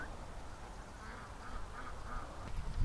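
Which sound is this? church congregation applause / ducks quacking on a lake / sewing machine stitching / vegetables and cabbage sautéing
ducks quacking on a lake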